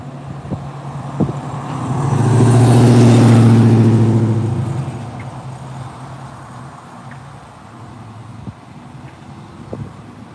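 A truck arriving at the SpaceX Starbase launch site in Boca Chica, Texas, its engine rumble swelling as it passes close by and then fading, followed by quiet outdoor ambience with faint scattered knocks.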